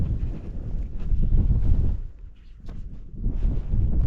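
Strong wind gusts roaring outdoors at a rugged wild campsite, buffeting the microphone in heavy continuous rushes that ease briefly midway before surging back loud.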